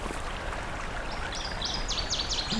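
A northern waterthrush sings a bright, rapid series of repeated chirping notes that grow louder toward the end, set against a constant rush of flowing water in a forest of cedar, jack pine and tamarack.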